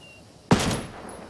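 A single loud gunshot in the video game Ghost Recon Wildlands cracks sharply and close, then trails into a rolling echo that fades over about a second.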